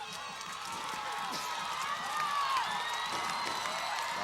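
A Tiger cheering section roars at a 1994 high school football game, the Apple Bowl between Paintsville and Johnson Central, sustained crowd cheering and shouting that swells louder partway through, with an announcer's voice over it.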